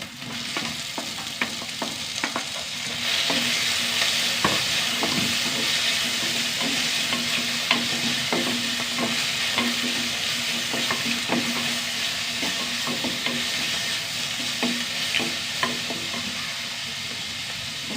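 Onions, green chilli and tomato fry in a pan with a loud, continuous close-up sizzle that swells after a few seconds. Frequent small clicks and scrapes of stirring run throughout, with no voices.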